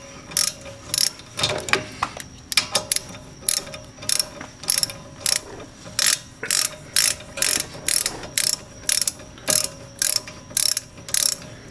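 A ratchet wrench clicks in quick, steady bursts while loosening rear brake bolts on a 2013 Ford Escape, the sharp metallic ticks repeating in a regular rhythm, close and clear.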